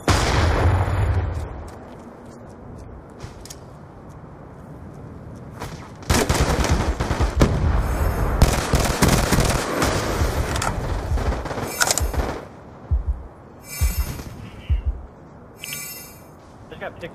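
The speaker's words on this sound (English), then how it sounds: "They were shooting at you." Gunfire from an objective-defense shooter video game: sharp broadband shots and bursts come in clusters from about six seconds on, mixed with game sound and talking voices.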